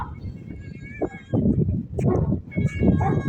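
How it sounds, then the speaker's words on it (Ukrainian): A cat meows several times outdoors on a farm, with short rising and falling cries close by, while chickens and other low background sounds continue faintly underneath. "Що за мяу?"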